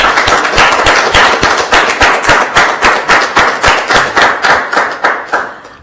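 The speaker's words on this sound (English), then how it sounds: "You can go ahead and clap." Loud, close rhythmic clapping from an audience gathered at a Catholic school, sharp claps in a quick steady beat that fall into unison and continue for several seconds before fading slightly.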